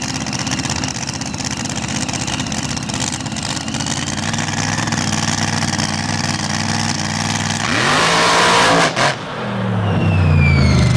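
Drag racing car with a 500 cubic inch screw-blown Hemi, a loud, steady rumbling idle that swells into a roaring launch near the end.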